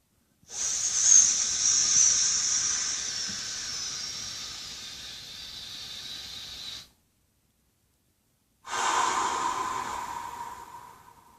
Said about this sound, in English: I'm going to be breathing in with my pursed lips for 7 seconds